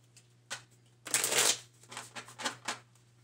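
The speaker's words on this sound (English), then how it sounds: "let's shuffle again" Playing cards are shuffled in a few quick bursts, with a longer riffle in the middle, close and clear in a quiet room.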